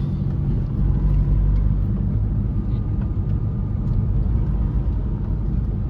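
A car drives along a road that is being widened in Trinidad, on the way to Icacos, giving a steady, heavy low rumble of engine and road noise that stays even throughout with no voices.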